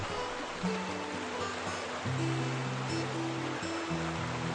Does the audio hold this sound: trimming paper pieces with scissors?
no